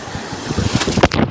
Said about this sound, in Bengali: এই বড় বড় বড় বড় ঢেউ, বড় ঢেউ, বড় ঢেউ